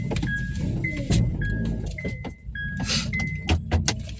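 A car turning around on a hill in heavy traffic, with a close engine and road noise, a repeating short tone that sounds like a turn signal or warning chime, and a few clicks and thumps.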